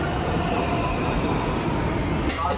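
A Gurgaon metro train rumbles along steadily, with a continuous low roar and rushing noise and no breaks.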